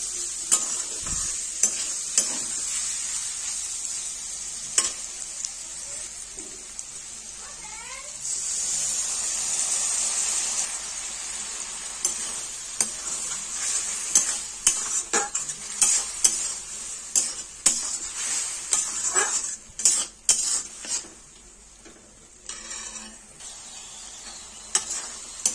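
Ivy gourd and potato are stir-fried with a poppy seed, peanut and green chilli paste. The pan gives a steady sizzle for the whole stretch, with frequent sharp scrapes and clicks from a spatula against the pan, close and clear.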